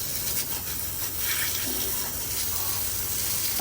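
Water spraying and running over a bare car subframe stripped of its old bushings during a drift car rear-end rebuild, a loud continuous rushing hiss close by with no voices over it.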